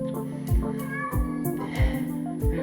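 Indoor house cat meowing repeatedly, four drawn-out cries spaced roughly evenly, loud and close, over a steady background hum.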